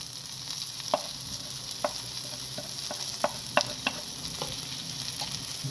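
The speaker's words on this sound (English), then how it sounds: "the onions have been cooking for a small while now. So now I'm going to add my garlic." Garlic frying with onions in a pan for meatball noodle soup, a continuous close sizzle punctuated by scattered light clicks and scrapes of a stirring utensil, with no talk.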